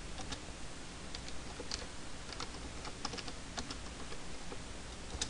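Typing on a computer keyboard, a close, steady run of light clicking keystrokes with small irregular bursts, heard alone against a faint background hiss.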